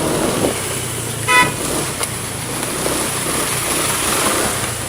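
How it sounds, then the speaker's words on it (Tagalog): A truck horn gives one short, clear blast over steady road and engine noise while riding a secondary road with patches of damaged pavement. "Pag nagbusina yung truck na. Kaya napansin natin."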